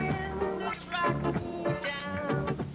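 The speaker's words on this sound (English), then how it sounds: "a device that rapidly changes the frequencies of ordinary music from high to low and back again" Ordinary music passed through a Berard auditory training device that rapidly swings its frequencies from high to low and back, giving a warbling, filtered, wavering melody with shifting brightness throughout.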